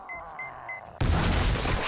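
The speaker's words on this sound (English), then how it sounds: "Ooh, that was a big explosion." Big explosion in the zombie survival game 7 Days to Die with the Darkness Falls mod, a sudden loud blast that cuts in over quiet game ambience and stays as a dense, roaring rumble.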